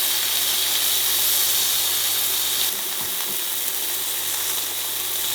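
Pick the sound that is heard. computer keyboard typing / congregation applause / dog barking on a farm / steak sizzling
steak sizzling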